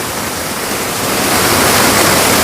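Water plunges into a rocky gorge at Pavankhind, making a loud, steady rushing roar that swells slightly partway through, with no other sounds.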